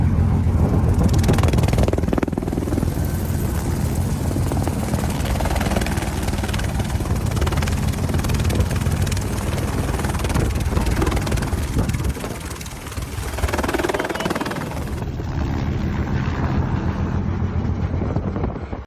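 A helicopter roars with heavy rotor thumping and wind buffeting, loud and continuous, dipping briefly before building again.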